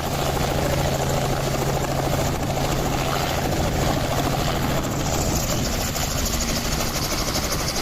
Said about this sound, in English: This helicopter landing on a small platform with precision.